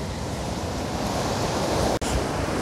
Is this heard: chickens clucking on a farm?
no